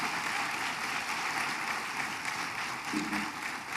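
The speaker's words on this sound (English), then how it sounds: "Please join me again in a round of applause for Vicki Nichols, the School of Nursing Founder Medalist." Dense, steady applause from a large audience at the Vanderbilt School of Nursing investiture ceremony, honoring a Founder Medalist, continuing evenly at moderate loudness with no voices.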